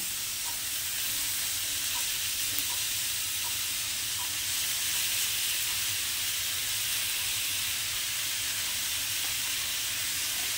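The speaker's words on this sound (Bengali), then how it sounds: "শাকটাকে নিয়ে উচ্ছে সমেত ভাজা ভাজা করতে থাকবো" Steamed note greens (amaranth leaves) fry over high heat with bitter gourd in a pan, making a steady, even sizzling hiss that continues unbroken with no talking.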